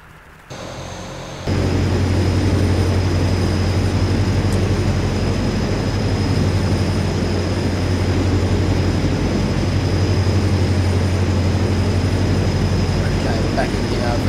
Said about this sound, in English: we'll go ahead and we'll get some engines fired up